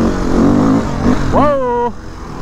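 A Beta 480RR dirt bike on a mountain trail roars up in a sharp rev for a wheelie, its engine pitch climbing then holding high before cutting off, with a voice heard beforehand.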